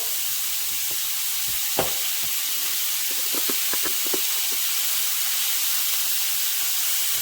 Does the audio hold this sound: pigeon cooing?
no